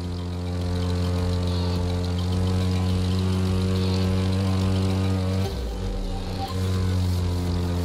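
An aircraft in The Crew 2 video game holds a loud, steady propeller engine drone with strong harmonic tones, and the pitch briefly drops and shifts partway through, as during a roll manoeuvre.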